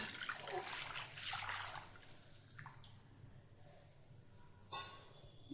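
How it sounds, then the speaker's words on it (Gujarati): Hot water is poured into a bowl in short splashy bursts, trickling and gurgling nearby, with a brief louder splash near the end. "હવે એમાં આપણે ગરમ પાણી એડ કરી દેવાનું છે"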